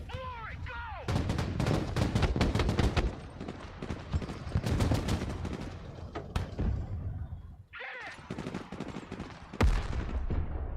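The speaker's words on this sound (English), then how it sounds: "Alright, we're taking artillery strikes." Explosions and heavy gunfire pound a Broken Arrow battlefield in repeated sharp, loud bursts, some in rapid clusters, with a short lull before more impacts. Voices chatter faintly between blasts.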